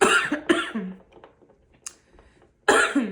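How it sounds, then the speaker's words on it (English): A few harsh coughs close by: two quick ones at the start, a quiet pause with faint shuffling, then another loud cough at the end. "you're gonna be hearing the cough"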